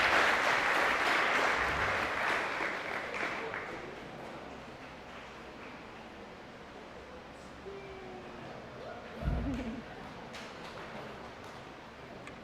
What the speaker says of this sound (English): one more round of applause for our students receiving the Principal's Award